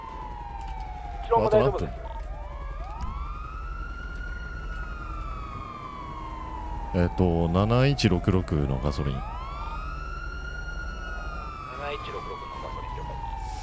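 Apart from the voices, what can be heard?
police car sirens in GTA roleplay video game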